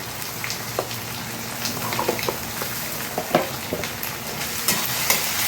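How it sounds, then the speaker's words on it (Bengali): Onion, ginger, garlic, tomato and green chilli pastes sizzle and crackle in a pan while being stirred, a close, busy frying hiss with scraping strokes and no talking. "এবার এগুলো সব দিয়ে ভালো করে ভাজবো, যেন কাঁচা গন্ধটা চলে যায়।"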